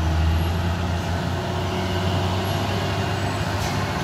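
A diesel truck labors up a steep hill road in heavy traffic, its low engine drone steady and close, with faint hissing and other traffic in the background.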